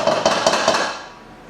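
A utensil works thick apple cake batter into a buttered, floured baking pan, giving four or five light metallic clinks and scrapes in a loose rhythm that fade toward the end.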